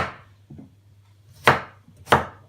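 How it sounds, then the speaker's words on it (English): A knife roughly chops apples on a cutting board for apple crumble, giving a soft tap followed by two sharp, loud, close thunks spaced well apart, with no talk. "Make sure we get the top and the bottom off, and then roughly chop it"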